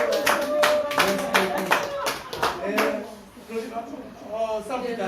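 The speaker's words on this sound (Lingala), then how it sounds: "Est-ce qu'on peut encore applaudir?" Applause at a civil wedding ceremony, with rhythmic hand claps from a small group in the first half, then scattered clapping under voices talking and exclaiming.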